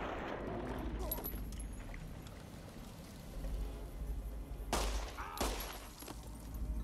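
Gunfire in the PC game Fallout: New Vegas: two sharp, loud shots crack near the end over a low, murky background rumble.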